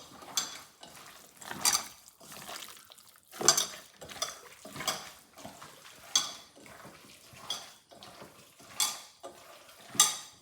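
Beef liver being mixed with chili powder, curry leaves and coconut oil, giving repeated bursts of wet stirring and scraping against a pot or bowl, close and fairly loud, with short pauses between strokes and no talking.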